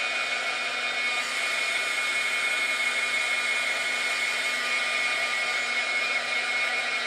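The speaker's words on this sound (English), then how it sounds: "I'm going to go over it with my heat gun one more time" A heat gun blows steadily over wet mixed media paint in a notebook, a constant close whirring hiss that holds at an even level without a break.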